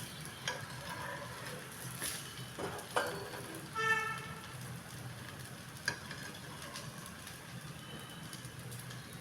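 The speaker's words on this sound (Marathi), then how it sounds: "बघा हा असा छान खरपूस भाजून घ्यायचा झाला हा आपला डोसा आता तयार आहे" A moong dal dosa fries on a hot pan with a faint, steady sizzle, broken by a few soft scrapes and taps of a spatula, quiet and close with no talk.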